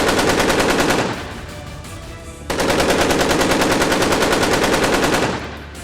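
Rapid automatic artillery fire from the Russian warship Admiral Kasatonov during a gunnery drill in the Barents Sea, a loud sustained burst of rapid shots, a short pause with lower rumble, then a second long rapid burst.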